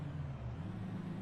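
Racing car engine in the sim racing game Zandvoort, a steady low drone held at a constant, fairly quiet level for about a second with no talk over it.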